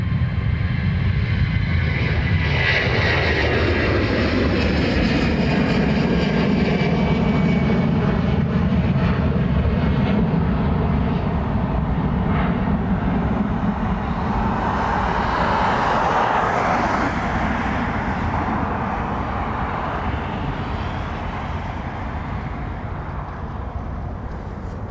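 A Ryanair airliner at Dublin Airport gives a loud, continuous roar of jet engines that stays close and sustained, with a slowly shifting whine over a broad rumble and no voices.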